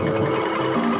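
A buzzy, rapidly pulsing electronic tone with steady harsh overtones from an early Sega arcade game, loud and continuous for about a second.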